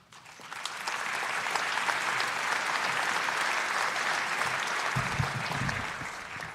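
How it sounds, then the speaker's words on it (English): An audience at a high school graduation ceremony breaks into sustained applause, a dense wash of clapping that swells quickly, holds steady for several seconds, then tapers off as a voice begins speaking near the end. "How about one more round of applause for Joey?"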